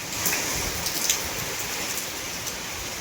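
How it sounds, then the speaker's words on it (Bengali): Heavy rain falls hard and close, a dense, unbroken hiss with a few brief drip-like spikes over the short stretch. "বৃষ্টি শুরু হয়ে গেছে ভীষণ জোরে"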